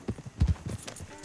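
Horse hooves clip-clop in Red Dead Redemption 2 as a horse is led along, in a soft uneven rhythm of a few steps close by.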